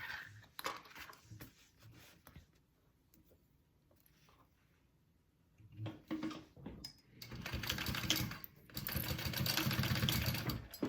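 Sewing machine basting fabric for a game bag: quiet handling at first, then short bursts of rapid needle stitching that build into a longer, louder run near the end, heard close up with no talking.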